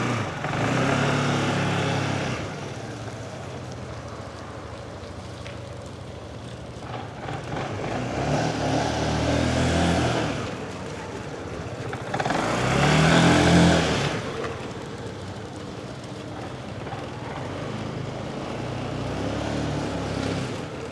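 A 2014 Yamaha Majesty 250 scooter with about 16,000 km idles quietly and steadily nearby, with a low engine hum that swells briefly a few times as if lightly revved. No one speaks over it.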